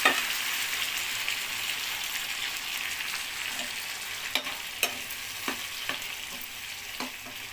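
Cooked dal hits a pan of crushed garlic tempering, giving a dense, hissing sizzle throughout with a handful of sharp pops and stirring clicks in the later half, no talk.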